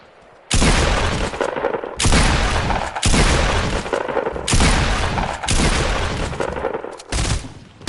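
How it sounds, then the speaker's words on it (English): Sniper rifle gunfire in a video game, five or six loud, heavy shots spaced roughly a second apart, each with a long booming tail, no voices. "Somebody's sniping us."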